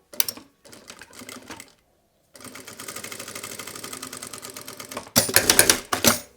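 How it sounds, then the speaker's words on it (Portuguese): A domestic sewing machine stitches the last fabric piece of a fabric passport wallet in bursts, with short pauses between runs and a louder, faster stretch near the end; no talking over it. "E costuro aqui o último tecido."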